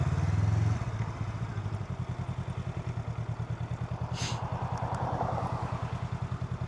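A Honda Rebel 500 motorcycle rumbles close by in a rapid, even pulsing beat, dipping briefly after a rev, then settling into steady throbbing cruising with a faint clatter.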